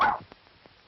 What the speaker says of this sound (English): Oh, what kind of a dog is this?